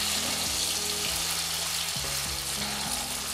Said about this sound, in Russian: Ну, рыба же недолго жарится.